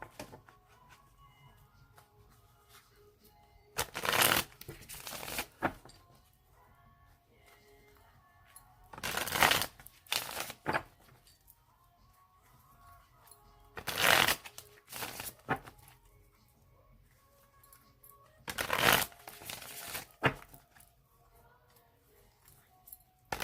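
Four separate bursts of riffling cards, each lasting about a second and spaced roughly five seconds apart, with quiet handling sounds between them.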